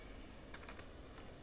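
Quiet computer keyboard typing into a spreadsheet data validation box, a short cluster of light key clicks heard alone over faint background hiss.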